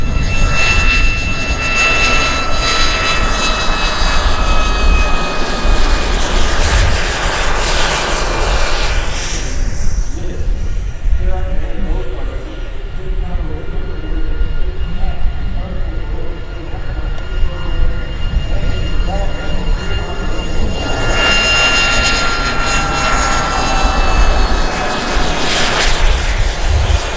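A MiG-29 jet arrives at EAA AirVenture Oshkosh 2022 with a loud, sustained roar that swells, thins briefly mid-pass and then builds again. It is heard outdoors over an airfield, with faint crowd or announcer voices mixed in.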